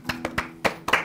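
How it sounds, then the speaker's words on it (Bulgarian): A few people clap for Dimi on a studio talk show, five sharp, separate claps close by in an uneven rhythm over about a second. "Пляскаме и ние на Дими."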